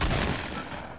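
Gunfire in a video game, a loud, rapid, close burst of automatic shots lasting about a second, ending with one sharp report.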